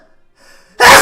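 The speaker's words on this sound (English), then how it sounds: "That was a good sneeze." A single loud, sharp sneeze bursts out close to the mic after a brief quiet intake of breath, with no talking around it.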